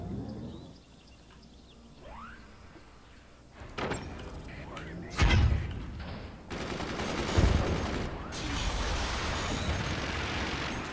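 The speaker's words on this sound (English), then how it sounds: "Oh, that minigun!" A minigun fires in the video game Forts, rattling off rapid bursts amid loud impacts and crashing destruction, building in density toward the end, with a voice talking over parts of it.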